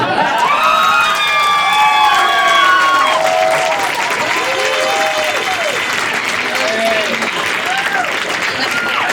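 Room of Trump voters at a West Virginia event loudly cheering and applauding Bernie Sanders, with sustained clapping, whoops and shouts filling the space throughout.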